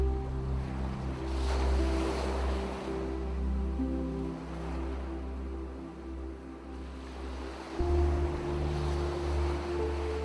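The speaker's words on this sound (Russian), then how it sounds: "Вслушиваясь в шум каждой волны, в звук этой музыки, вы начинаете освобождать ваше сознание." Ocean waves wash steadily against the shore, a continuous soft surf rising and falling with a low droning hum underneath and no voices.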